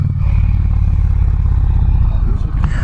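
Indian Challenger motorcycle accelerating hard, a loud close engine roar with a pulsing low-end rumble that holds steady and then rises slightly at the end, with no talking.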